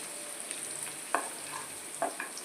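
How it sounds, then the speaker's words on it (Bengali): Cashews and raisins frying in a pan give a soft, steady sizzle. A spoon scrapes and clinks against the pan in two or three distinct strokes, close and alone, with no talk. "কাজু আর কিশমিশটা দিয়ে দিলাম, দিয়ে একবার এটাকে ভালো করে ওলট পালট করে এটা নেড়ে নিতে হবে"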